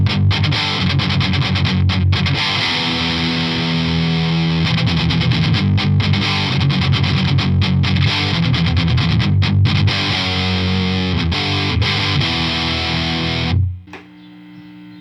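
A Mesa Boogie Mark III amp with its bass shift engaged, driving Celestion V30 and G12T-75 speakers, carries a loud, saturated electric guitar playing dense chords and riffs nonstop, then cuts off near the end, leaving a brief ringing tail.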